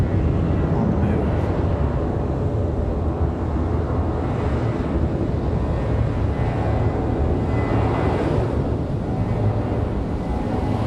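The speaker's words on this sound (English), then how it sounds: "As we get the Delta 737" A Delta Boeing 737 jet taxis at Raleigh-Durham airport, a steady low engine rumble with broadband roar and wind noise that holds constant throughout, heard from a distance.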